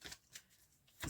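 A deck of oracle cards is shuffled up close, heard as soft, brief riffling and sliding bursts, quiet overall, with a sharper flutter at the end and no voices.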